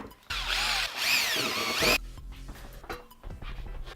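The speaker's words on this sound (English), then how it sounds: "we're going to drill a hole in. not this big bit. I'm going to use this tiny bit right here." A drill with a tiny bit spins up loudly and bores a small hole in cedar for about a second and a half, pitch wavering under load, then stops, leaving low background hum and clatter.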